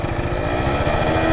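A scooter engine with stiffer 4,000–5,000 RPM clutch springs holds a steady, loud buzzing drone at high throttle, close up, with a pulsing low rumble and no voices, as the rider prepares to lift the front wheel.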